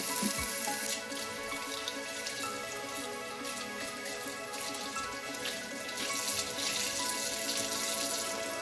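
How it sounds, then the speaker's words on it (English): Ten cups of water poured into a pot for Vietnamese sour soup, a steady close splashing gush that carries on without a break, with no talk. "After we added our 10 cups of water, we bring it to a boil."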